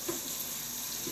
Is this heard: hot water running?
yes